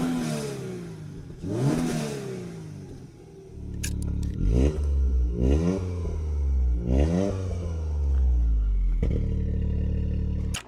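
Toyota sedan engines from 2024 are started one after another and blipped through several sharp revs, each climbing and dropping in quick rising sweeps over a low rumble, close and loud with no talking.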